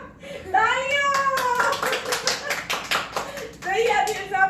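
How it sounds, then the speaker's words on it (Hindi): Clapping during an age-guessing segment at a family birthday celebration, a brief burst of hand claps between stretches of close, animated talk. "तालियां।"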